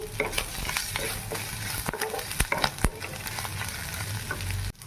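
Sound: frying and stirring with salt and turmeric

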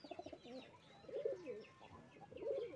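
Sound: pigeons cooing while being fed in the rain

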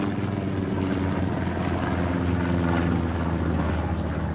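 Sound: enemy scouting plane flying over, from video game Hell Let Loose

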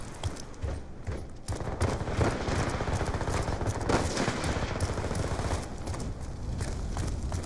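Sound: gunfire in a video game

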